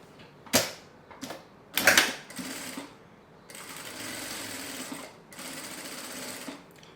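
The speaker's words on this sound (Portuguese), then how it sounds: "Eu vou dobrar ela e aí eu faço uma costura fechando" A sewing machine runs in short start-stop bursts and then longer steady runs, stitching closed the bottom of a fabric notebook case, close and clear with no talk.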